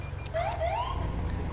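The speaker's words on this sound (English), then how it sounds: "I think it was the code 3 RLS siren, if I'm not mistaken." A police code 3 RLS siren from the video game GTA 5, a rising wail that repeats and sweeps upward, heard alone over a steady low engine rumble.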